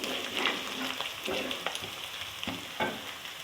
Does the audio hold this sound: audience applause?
no